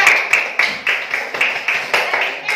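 A small classroom group claps for group 2 in a steady, rhythmic beat, about ten distinct, even claps in close succession, near and moderately loud.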